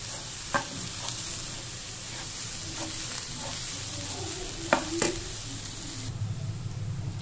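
Raw banana slices frying in a pan with salt, a quiet steady sizzle under a few sharp scrapes and taps of a stirring spoon, close and fairly faint.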